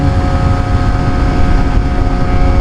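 Constant heavy wind buffeting on a sportbike at speed on a windy day, with a droning engine underneath, loud and unbroken throughout.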